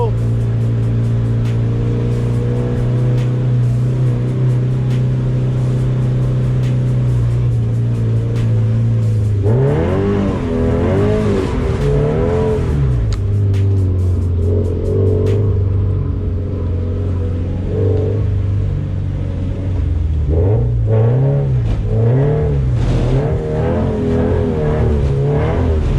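A car engine drones loudly and steadily from the cabin at a drift event, then revs up and down in repeated wavering surges as it drifts, with tire and wind noise under it. A voice speaks briefly over the engine.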